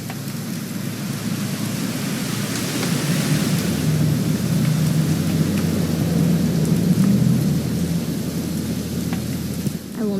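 Steady rain and low rumbling thunder in What Remains of Edith Finch, a continuous dense wash with deep rolling swells building through the middle, no voices over it.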